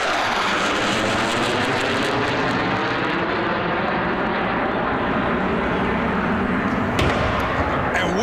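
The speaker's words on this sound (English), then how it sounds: "There's the CF-18 Hornets from the 425th Tactical Squadron from Bagotville" CF-18 Hornet fighter jets of the 425th Tactical Squadron flying over the Trois-Rivières racetrack before a NASCAR Pinty's Series race, a loud, steady broadband roar that fills the whole stretch with a faint voice underneath.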